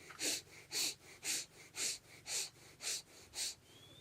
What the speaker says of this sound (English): this short, shallow, strong breathing technique